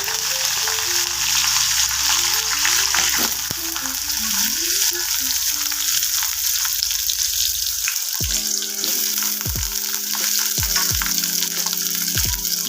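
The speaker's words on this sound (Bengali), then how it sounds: "ফোড়ন দিয়ে দিলাম, তেলে নেড়ে নেবো" Spices tempering in hot oil while being stirred for a home-cooked cabbage dish, a continuous bright sizzle close up, with clinking utensil knocks and scraping in the pan and short tonal chimes over the frying.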